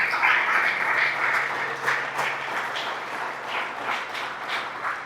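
A church congregation applauds during a worship service, producing a sustained, dense wash of many hands clapping that fades slightly toward the end.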